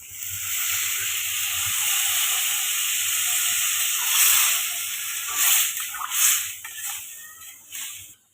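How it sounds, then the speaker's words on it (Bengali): Water poured into a hot pan of spiced pabda fish curry with young jackfruit sets off a loud, steady steam hiss and sizzle that rolls on close by, surging in a few bursts toward the end. "জল দিয়ে দিলাম"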